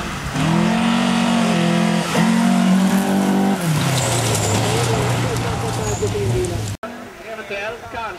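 Rally car racing at speed in the Sandströms-Sprinten, engine droning loud and steady with shifting pitch, a brief dip and cut near the end, under continuous commentary talk.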